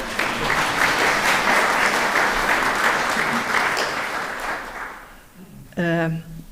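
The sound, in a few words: audience applause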